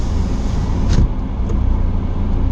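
Low, steady engine rumble and road noise from inside a moving automatic car, with a faint brief rattle near the middle; no one speaks.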